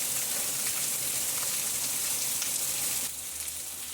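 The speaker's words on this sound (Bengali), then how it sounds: "আমাদের এখানে আজকে খুব বৃষ্টি পড়ছে, মুষলধারে বৃষ্টি হচ্ছে।" Heavy rain pours down in a steady, dense hiss that fills the whole clip and eases slightly toward the end, with no voices.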